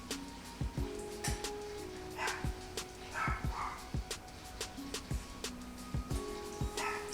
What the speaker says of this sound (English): Sorry to hear my dogs barking